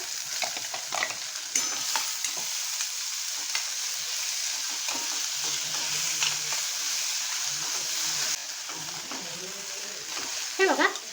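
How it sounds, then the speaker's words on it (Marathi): Two large finely chopped onions fry in hot oil in a pan, a continuous sizzling hiss under repeated spoon scrapes and stirring knocks, close and moderately loud, with a brief clatter near the end. "आता मी हे दोन मोठे कांदे घेतले बारीक शॉप करून ते आपण ॲड करूया"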